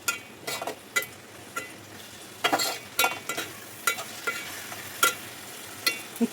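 Fresh cashew curry is stirred with salt in a pan, with repeated short scraping and clinking strokes of the spoon over a faint sizzle, close and without talk.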